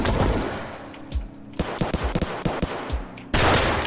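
Gunfire in Escape From Tarkov: a single sharp gunshot near the start, followed by a cluster of quick impact cracks, then a loud burst at the end, all close and punchy with no talk.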